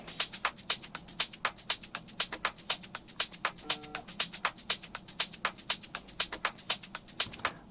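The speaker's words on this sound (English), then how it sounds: "just a drum loop" A dance-music drum loop of rapid, crisp hi-hat and percussion ticks in a busy, even groove, bright and steady throughout with light low end underneath.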